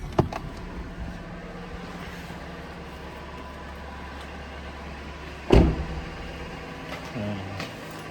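A car engine idles in -30 degree winter cold, a low steady rumble running throughout, with a sharp knock or thump near the middle and a few faint clicks, while a person talks quietly.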